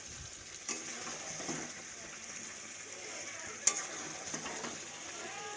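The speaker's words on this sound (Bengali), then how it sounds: "আর আমি নেড়ে নেড়ে দেখো মশলাগুলোকে পুরো গলিয়ে দিয়েছি" Potatoes and spices for fried rice frying in a pan, with soft continuous sizzle under repeated scraping and stirring strokes and a few sharper clinks from the spoon against the pan; fairly quiet and close, no voices.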